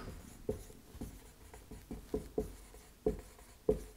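A marker or pen writes out a maths equation on a board in a series of quick scratchy strokes and taps, close and fairly quiet, with an irregular rhythm and no voice.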